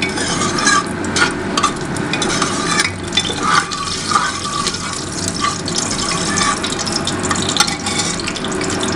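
Cinnamon, cardamom and cloves crackle in hot oil as a spoon stirs them, a loud continuous sizzle with frequent scraping strokes close by.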